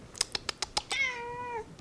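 Five quick taps or clicks are followed by a single drawn-out cat meow that rises and then falls, close by and fairly soft, with no talking.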